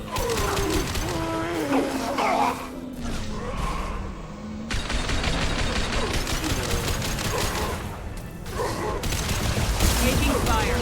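Rapid bursts of gunfire and weapon clatter fill a firefight in Mass Effect Legendary Edition, loud and continuous with whooshes and impacts, mixed with in-game voices and music.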